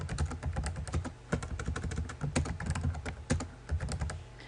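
Fast, continuous typing on a computer keyboard sounds as dense, close clicking with only a few short pauses.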